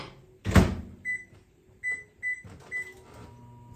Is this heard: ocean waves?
no